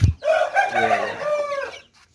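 A rooster crows once, loud and close, a drawn-out call following a brief low thump at the start.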